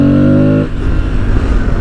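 An Aprilia Tuareg 660 adventure motorcycle's engine pulls hard in second gear, a loud steady droning tone that breaks off abruptly into a rougher, fluttering rumble, close and with no talk.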